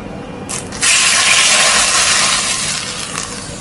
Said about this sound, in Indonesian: kita akan siram dengan minyak yang benar-benar panas banget supaya nanti rasanya lebih gurih